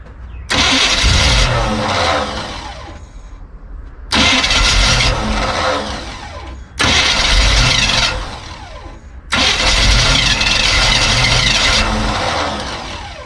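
An old classic milk truck engine cranks and catches four times in succession, each start rising into a loud, steady mid-pitched running roar for a few seconds before dropping away, with no talking.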